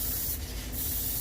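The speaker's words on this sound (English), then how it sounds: "put a satin finish on it." Short burst of spray finish, satin coat applied to an artificial skull for a European horn mount, a brief hiss rising over steady background noise for under half a second.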